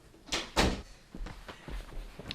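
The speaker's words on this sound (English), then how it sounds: "The door's open." A door opening indoors, a few close knocks and thuds with a sharp burst of rattling, then softer bumps that fade out, with no talking.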